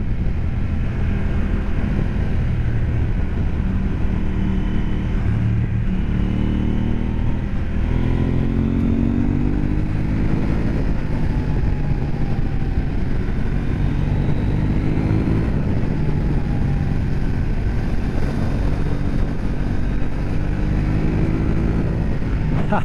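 A 2023 KTM 890 Adventure motorcycle engine runs steadily and loudly throughout while riding, with rising and falling pitch as it shifts through gears, plus heavy wind rumble.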